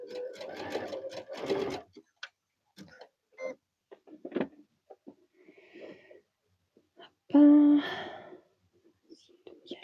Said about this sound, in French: on va se placer sur l'envers pour pouvoir faire le zigzag pour plaquer correctement notre élastique.